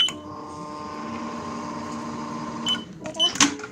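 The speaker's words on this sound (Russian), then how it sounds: "Давайте положим еще в микроволновку ее на оставшиеся 4 секунды." A microwave oven hums steadily while heating a pack of croutons, a constant electric drone that gives way to clattering and a few abrupt sounds at the end.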